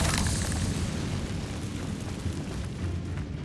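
A Confringo spell explosion bursts in the Hogwarts Legacy video game, a loud, dense rumbling blast that starts strong and rolls on as a sustained roar with scattered crackles.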